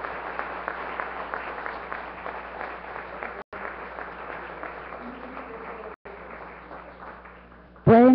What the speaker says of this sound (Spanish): Un aplauso, por favor, a los miembros de nuestro Consejo Universitario.